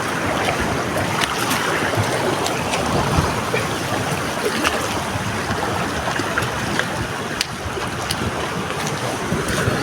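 Heavy floodwater after rain rushes over a bridge with a loud, continuous roar and churning wash, steady and close throughout with wind noise mixed in and no clear talk.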